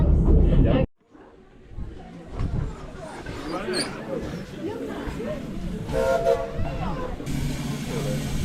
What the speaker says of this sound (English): Yay, the train's here, William, huh?